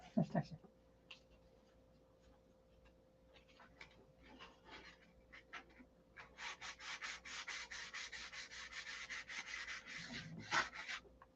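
Steady scraping rub of sanding builds up and continues for several seconds, fairly close, with a faint voice at the start.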